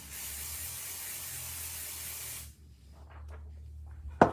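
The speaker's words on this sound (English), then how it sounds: "open it up, and I'm going to spray this stencil." Pixie spray hisses onto a stencil in one continuous close burst of about two and a half seconds, then stops, leaving faint rustling and a brief click at the end.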